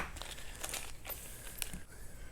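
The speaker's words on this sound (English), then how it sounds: "Get my trusty Fisker scissors out to cut all my bags up" Plastic parts bags for a TRX-4 kit being cut open with Fiskars scissors, close crinkling and tearing rustles in quick bursts with snipping, no talk.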